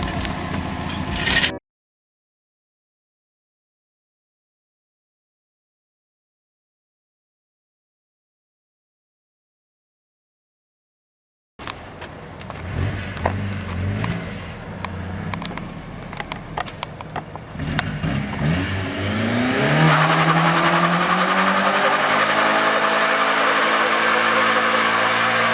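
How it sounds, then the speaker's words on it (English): A Mazda Miata fitted with a new water pump and timing kit runs on a test drive, with a steady engine note and road noise that get louder toward the end after a long stretch of silence. "we'll go for a test drive"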